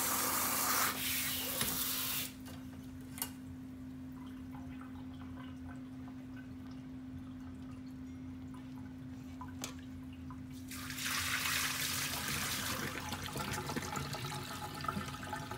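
Water pours and splashes out of rinsed rice in two bursts, at the start and again later, with quieter dripping and a low hum in between.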